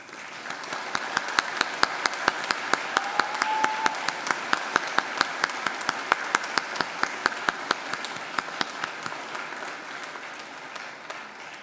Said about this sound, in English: turn around and face your family and friends and give them a hearty round of applause.